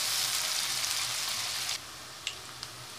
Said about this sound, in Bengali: এখন আমি একটু হালকাভাবে ভেজে নেব